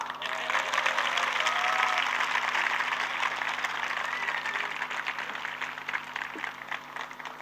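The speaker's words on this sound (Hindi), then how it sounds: "ताली बजाओ" An audience at Dr. Sanjeev Kumar's speaking event in Dehradun claps steadily and densely, a sustained even wash of applause that lasts throughout without pause.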